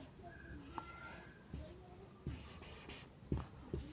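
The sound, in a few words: writing the word TALL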